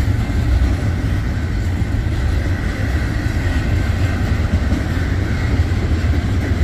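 A BNSF/Union Pacific westbound double-stack mega stack freight train rolls past near Santa Fe Street in Olathe, Kansas, a loud continuous rumble with wheel noise and steady clatter, no voices.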